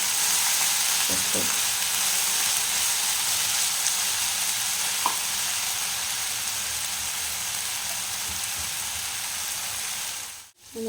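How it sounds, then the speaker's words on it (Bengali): Ginger, garlic and chilli fry in a pan with a steady, close sizzle that runs evenly throughout, broken by a few faint clicks and a brief dropout near the end. "আদা রসুন লঙ্কা হ্যাঁ এটা একটু ভালোভাবে ভেজে নিতে হবে"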